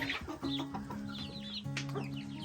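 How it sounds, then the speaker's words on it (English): Black chickens cluck nearby in a run of short, choppy calls, several birds overlapping in a busy stream of clucks, over a faint steady background tone. "So you can see they're beautiful birds."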